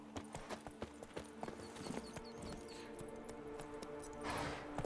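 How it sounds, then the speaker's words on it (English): Hooves of the horse Roach clip-clop at a steady trot in The Witcher 3: Blood and Wine, a close rhythmic clatter over a constant game ambience. "Get over here, Roach."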